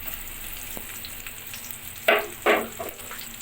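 Large chunks of new potato fry in a pan of oil for a fish and cauliflower curry, a low steady sizzle broken by two louder crackling bursts near the end as the pieces are stirred, no talking.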